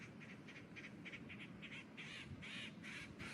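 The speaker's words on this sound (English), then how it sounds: "At least some birds are busy." Birds call repeatedly outdoors on a windy morning in a garden, faint rhythmic squawks and caws over a low rumble of wind buffeting the microphone.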